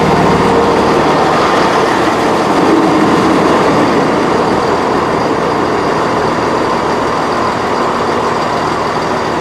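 Class 158 unit 158 826, in new livery, passes close by in Cardiff with a loud, sustained rumble of wheels and engine that holds steady throughout and fades only slightly toward the end.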